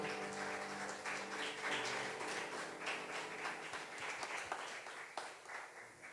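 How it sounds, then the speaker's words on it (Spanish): Church congregation clapping together, a dense, steady crackle of many hands with some sharper individual claps, with a faint tonal hum underneath. "Denle un fuerte aplauso al Señor"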